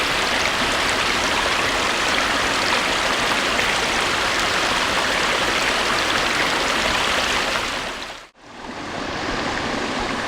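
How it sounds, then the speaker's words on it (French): Garden waterfall cascading steadily into the main pond of a demonstration water garden, a dense, continuous rush close by with no voices, broken only by one brief dropout near the end. "L'eau est ensuite retournée au jardin d'eau par le biais d'une cascade qui s'écoule tout doucement jusque dans l'étang principal."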